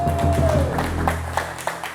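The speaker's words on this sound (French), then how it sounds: "Les gars, applaudissez quand même pour ça." A studio audience on a music television show gives brief, moderate applause, scattered claps over a low hum that thins out within two seconds.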